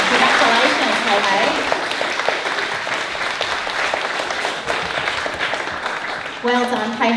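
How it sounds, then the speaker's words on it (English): Applause from an audience of parents and children at a primary school presentation day, sustained loud clapping from a hall crowd, briefly joined by a voice near the end. "Let's give KH another great big clap for graduating"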